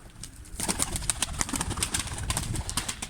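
Arab breed pigeons cooing close by, a steady run of soft, repeated coos with some faint fluttering, continuous over a few seconds with no talking.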